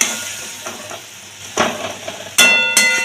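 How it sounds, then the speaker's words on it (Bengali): Green chilli and turmeric powder fry for chana dal in a pan, giving a faint sizzle and a few spoon scrapes that get louder, with two sharp clinks of metal near the end and no voices. "মশলাটা একটুখানি কষিয়ে নেব।"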